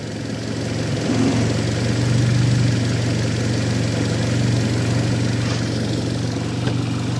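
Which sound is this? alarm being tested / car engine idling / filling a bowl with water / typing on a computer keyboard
car engine idling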